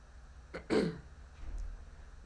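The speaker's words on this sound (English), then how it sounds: "And now I'm coughing so hard I get a headache every time I cough." A person with a week-long illness clears their throat once in a loud, rasping burst, followed by a softer, quieter rumble in a quiet indoor room.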